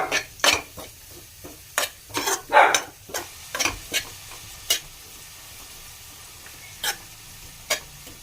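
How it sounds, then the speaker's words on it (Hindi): Sesame seeds stirred and dry-roasted in a pan over a very low flame for laddu, with repeated scraping strokes of a spoon against the pan and a soft sizzle between them, close and without talk. "तो बिल्कुल कम आंच पे ही हम इसे भुनेंगे"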